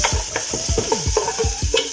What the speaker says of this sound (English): We're gonna get these bad boys nice and brown.